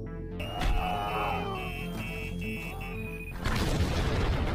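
An explosion in a film story set on a remote island death game, where a contestant named Peter is killed: a sudden low boom bursts in near the end, loud and close, over a busy soundtrack of drones and tones.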